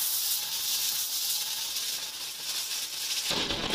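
Sliced potatoes and onions dropped into hot oil in a pan, giving a steady close hissing sizzle that holds evenly for a few seconds before a brief shift in tone at the end.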